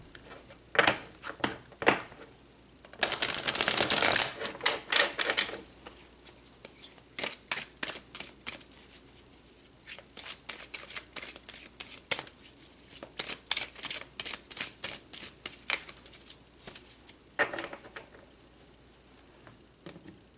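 Tarot cards are shuffled and pulled, with a dense riffling burst followed by scattered soft flicks, taps and slides of card stock, close and fairly quiet, with no voice.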